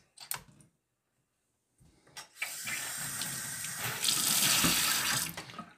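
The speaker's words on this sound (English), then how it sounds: "You can fill up your sink." Water runs from a kitchen faucet fitted with a PUR FM2500V faucet filter, starting after brief clicks and a pause, then a steady loud hiss filling the sink.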